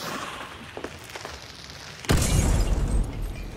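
A thrown frag grenade goes off in Hunt: Showdown with a single loud, close burst and a rumbling boom that lingers, after a couple of seconds of quiet scuffling and soft footsteps.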